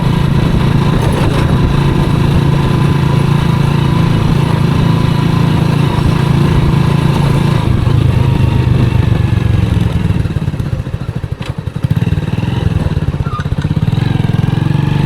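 A motorcycle engine runs steadily and loudly throughout, a continuous buzzing drone that dips briefly near the end before resuming.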